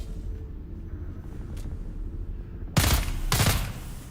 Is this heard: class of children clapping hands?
no